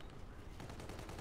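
Rapid automatic gunfire in the Call of Duty: Infinite Warfare multiplayer game, a dense continuous burst of shots with a voice faintly underneath.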